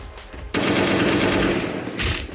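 Rapid gunfire from a weapon in the survival video game Last Day on Earth, a dense burst of shots that cuts off and then fires again briefly, loud and close.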